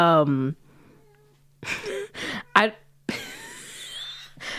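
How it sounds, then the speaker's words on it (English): A cat gives a short whine, followed by several brief, higher-pitched vocal bursts, close and fairly soft, with a low steady hum underneath and a person talking in between. "She just purred, or like that was not a purr. She whined."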